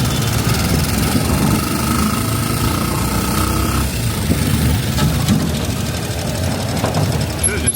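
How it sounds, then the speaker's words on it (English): Motorbike rickshaw engine droning steadily while riding through Manila streets, a loud continuous rumbling buzz with road noise that never lets up. "I've got one of these little rickshaw things, motorbike rickshaws."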